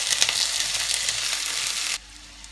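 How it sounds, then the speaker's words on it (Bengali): Chopped onions fry in hot oil with a loud, close, hissing sizzle that cuts off sharply after about two seconds, leaving quiet. "এখন আমি এর মধ্যে ঢেলে দিব 1 কাপ পেঁয়াজ কুচি।"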